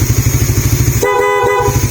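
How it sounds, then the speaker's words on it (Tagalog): Horn of a Suzuki Raider R150fi motorcycle sounding once, loud and close, a steady harmonic toot lasting about a second over the bike's rhythmic idling engine. "Saka po natin gamitin yung busina"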